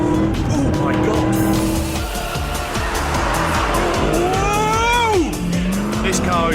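A V8 car revs hard and accelerates while sliding sideways, with loud, close engine roar and shifting pitch, squealing tires and skidding throughout, and excited voices shouting over it.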